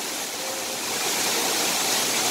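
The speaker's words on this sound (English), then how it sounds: "The banging of the water." A waterfall thunders continuously, its broad, dense rush of crashing water loud and close without any break.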